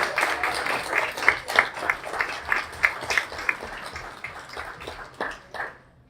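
An audience gives a speaker a warm round of applause at a peace benefit concert, moderately distant clapping that swells and then fades out over several seconds.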